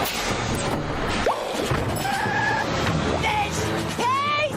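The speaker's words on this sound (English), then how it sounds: "Hits the gas, leaving SpongeBob busless yet again." A cartoon bus from a SpongeBob SquarePants episode peels away at speed: a loud engine roar with screeching tire squeals and sharp whooshing, swooping effects, all punchy and close.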